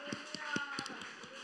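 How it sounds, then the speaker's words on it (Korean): A Korean church congregation at a Friday worship service in Busan claps together in a steady, even rhythm, about four beats a second. The clapping sounds soft and somewhat distant over a sustained background tone. "하나님께 박수를 드리겠습니다"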